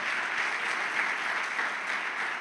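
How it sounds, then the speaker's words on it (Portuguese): A congregation at a church celebration service claps together in a continuous even wash of applause, dense and moderately loud with no single standout hands, lasting a few seconds. "Aplauda o Senhor nesta noite,"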